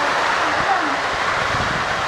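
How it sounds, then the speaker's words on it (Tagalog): Broad, steady rush of wind from Typhoon Luis buffeting the microphone on a small farm, with a faint low rumble underneath and no clear voices. "Mahangin."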